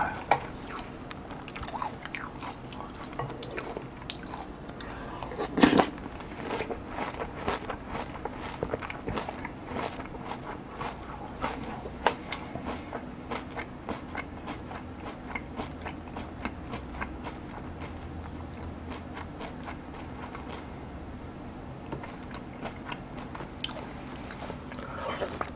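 Someone eating green onion flavored Chex cereal with white milk, close-miked with repeated crunchy bites, wet chewing and soft squishy slurps in a steady irregular rhythm, with no talking.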